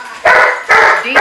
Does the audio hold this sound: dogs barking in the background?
yes